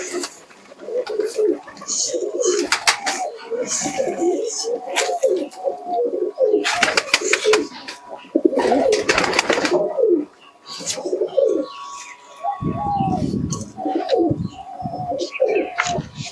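Giribaj and Matraj pigeons let out and fed, cooing steadily and repeatedly close by, with flutters and scattered bird calls, and people talking over them.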